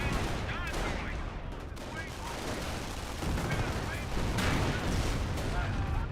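Artillery shells and gunfire boom and crackle in a dense, continuous barrage in the game Company of Heroes, loud and busy throughout, while a voice talks over the battle.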